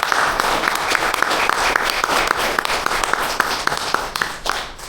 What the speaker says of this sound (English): Y'all please give them a round of applause.